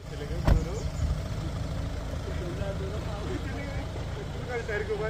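A Thar car's engine rumbles steadily close by during car stunts in Vikarabad, with a brief knock near the start and voices talking faintly in the background.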